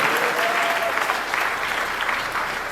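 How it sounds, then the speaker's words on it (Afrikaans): A short burst of hearty applause from a church congregation at an NG Kerk in Gouritsmond, dense and steady throughout. "Geef julle self lekker hande klap."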